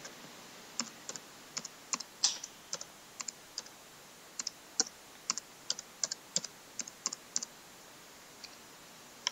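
Irregular clicking keystrokes on a computer keyboard while a web address is typed in, light close taps in small clusters over quiet room tone.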